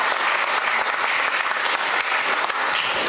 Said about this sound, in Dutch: U mag natuurlijk klappen